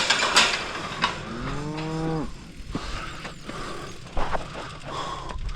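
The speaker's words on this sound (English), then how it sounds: "Oh, my favourite thing, a cow." A cow moos once in a long, rising then falling call out in the open Welsh countryside of the Elan Valley, close and clear, with clicking bike mechanism noise and rustling around it.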